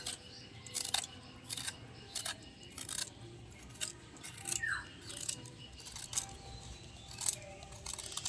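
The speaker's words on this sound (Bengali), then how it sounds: "এবার ওপর থেকে এই খোসাগুলো একটু ছাড়িয়ে নেবো, যতটা খোসা ছাড়ানো যায়।" Repeated scraping, snipping strokes as the thick outer skin of a chalta (elephant apple) is peeled for pickle, sharp bursts coming in an uneven rhythm up close with no talking.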